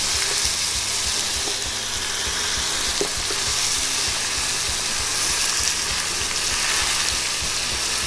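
A prime rib roast searing in a hot pan gives off a steady, loud, dense sizzle with scattered small pops, continuous throughout with no talking.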